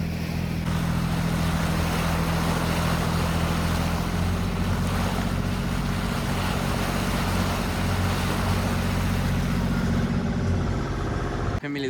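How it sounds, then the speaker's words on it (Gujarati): A fishing boat's engine runs steadily at sea, a loud continuous low drone with a constant hum and wash of water and wind around it, unbroken for about eleven seconds. "અમારી બોટ જો આ રીતે કંઈક હાલતી હોય"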